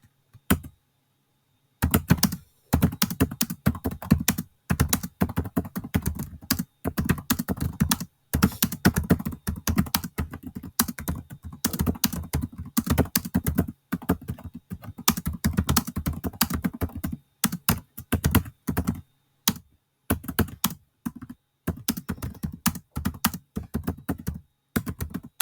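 Rapid keystrokes clatter on a computer keyboard in close, uneven bursts, broken by several short pauses, with no talking.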